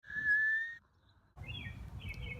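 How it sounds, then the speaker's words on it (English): A single sustained whistle, used as a night-time signal in the final tomb scene of Romeo and Juliet, sounds clearly for under a second, then gives way to a low steady background rumble. "There's the whistle, signaling that someone else is here."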